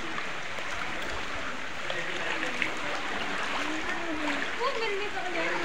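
Steady rushing water flows and splashes close by in an echoing cave, with a continuous broadband wash and occasional louder splashes.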